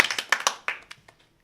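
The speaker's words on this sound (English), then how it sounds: "Round of applause" A short burst of audience applause closes an hour of a live-streamed gaming event: several sharp hand claps up close, thinning out and fading to a few scattered claps within a second and a half.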